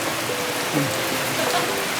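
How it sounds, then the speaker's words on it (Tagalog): Heavy rain pouring steadily, a dense, loud hiss of drops hitting surfaces close by, continuous and alone for the whole stretch. "Ang lakas ng ulan."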